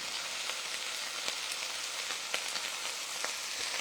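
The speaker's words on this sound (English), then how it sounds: "I'm going to finish stir frying this garlic with the chicken." Garlic and chicken stir frying in a pan for fried rice, giving a soft, continuous sizzle with faint scattered pops and crackles, fairly quiet and close, with no speech.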